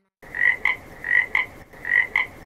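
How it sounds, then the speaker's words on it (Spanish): A frog croaking in a jungle animal sound lesson for children: three loud paired croaks, each a longer rasping note followed by a short sharp one, close and clear with no talk. "y la rana."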